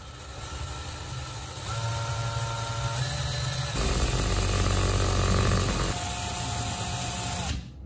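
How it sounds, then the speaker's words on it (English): An electric drill spins a pencil's graphite tip against fine sandpaper at slow speed, producing a continuous whirring motor drone with gritty scraping that shifts pitch in several steps before stopping abruptly. "Now run the drill at a slow speed and press the tip against a piece of fine sandpaper."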